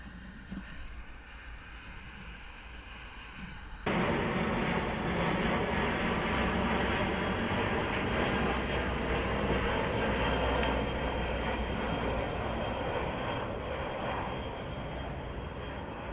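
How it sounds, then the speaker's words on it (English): An airplane's engine roars in a broad, steady wash that jumps abruptly louder after a few seconds and then holds, close and dominant with no speech. "This plane flying sideways."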